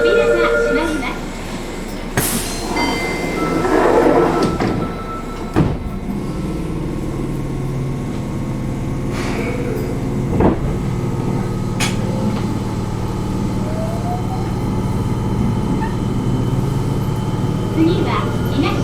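A Fukuoka City Subway Airport Line 1000N series train with a Hitachi IGBT inverter runs between stations, giving a steady loud rumble with rising motor tones and a few sharp clunks and squeals over about nineteen seconds.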